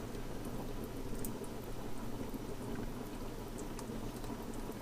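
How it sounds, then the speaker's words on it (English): Pots of vegetable beef soup simmer on a stovetop, giving a faint, steady bubbling patter that continues evenly throughout. "Now these are going to simmer for several hours here on the stove."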